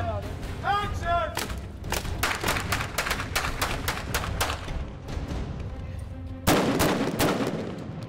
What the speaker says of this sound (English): as you shoot, and it makes this bang, this loud noise